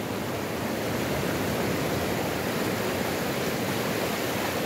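Steady broadband rush of water where the sea meets the Caraíva river, a continuous close surf-like wash with no voices, constant loudness throughout.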